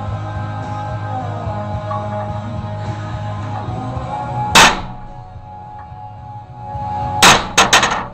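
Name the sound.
hammering a center punch into metal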